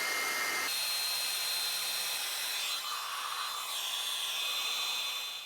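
Heat tool blowing steadily to set embossing powder on a card, a continuous loud whooshing hiss of hot air that shifts slightly in tone as it moves.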